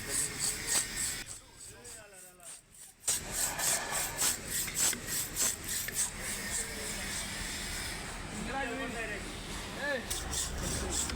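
A screw blade rasps back and forth through a metal piece in a workshop, rough repeated rubbing strokes with a short pause, while background voices and other shop noise carry on.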